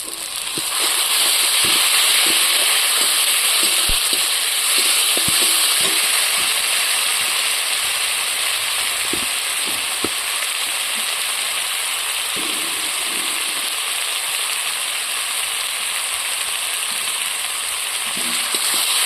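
Tomato paste fries in a pan with a loud, dense, continuous sizzle and crackle, close and steady throughout, with scattered small pops and spatters.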